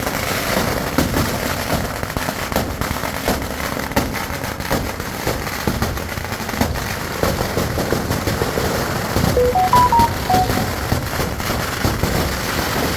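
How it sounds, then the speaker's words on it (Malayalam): Firecrackers bursting at a temple festival, a dense continuous crackle of rapid pops and bangs, loud and sustained for the whole stretch. "അത് കഴിഞ്ഞ് നേരെ പടക്കം പൊട്ടുന്ന കാണാൻ പറ്റും."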